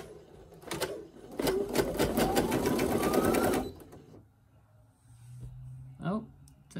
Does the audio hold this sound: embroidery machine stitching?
yes